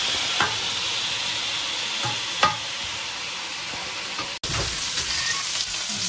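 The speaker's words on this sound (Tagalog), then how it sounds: "Lagay mo sa gitna yung karne para maluto." Pork belly fries in a pan for kimchi fried rice, giving a steady, close sizzle broken by a few scraping stirs of the spatula and a brief gap near the end.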